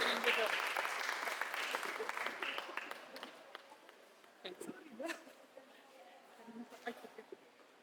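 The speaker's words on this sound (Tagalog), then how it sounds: "Bigyan po natin ng masigabong palakpakan ng ating municipal mayor, Mayor Cesario R. Benedito Jr." Enthusiastic applause from an audience at a project launch in Brooke's Point honoring the municipal mayor: dense, sustained clapping that starts strong and gradually thins into scattered claps toward the end.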